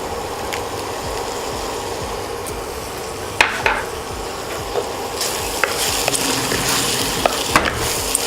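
Prawn biryani mixture with mint is stirred in a pot over a steady sizzle, with sharp spoon scrapes and clinks against the metal rising above the frying hiss, close and without speech.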